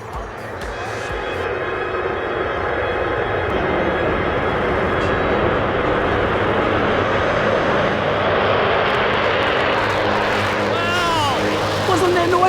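Navy aerobatic demonstration team planes take off at an air show, their jet engines building into a loud, sustained roar that swells and stays intense, with people's voices briefly audible amid the noise.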